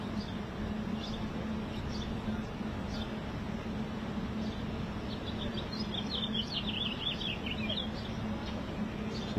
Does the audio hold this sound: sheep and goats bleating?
no